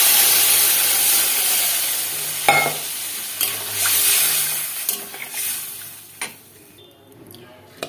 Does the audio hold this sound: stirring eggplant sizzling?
yes